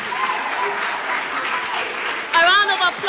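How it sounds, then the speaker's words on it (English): Studio audience applause for a television talent show contestant, a steady wash of clapping with a voice speaking over it near the end. "A round of applause for Epi"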